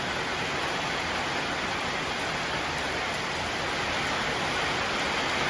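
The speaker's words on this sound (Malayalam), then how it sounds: "മഴ" Steady rain falls during an outdoor gathering of friends grilling and frying chicken, a constant even hiss of drops with no letup and no voices.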